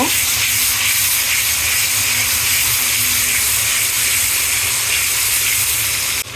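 Garlic, ginger and cumin paste stirred in a hot pan, a steady loud hiss of frying throughout the clip with no talk, cut off abruptly at the very end.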